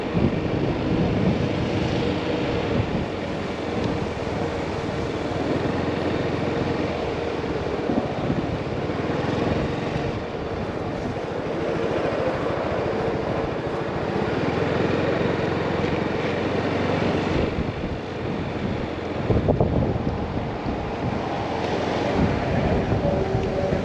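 Strong wind buffets the microphone outdoors on a motorcycle practice day, a loud continuous rumble that swells and gusts throughout with no voices.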